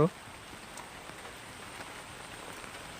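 Rain falls on a village pond with a faint, steady patter and hiss that carries on evenly throughout.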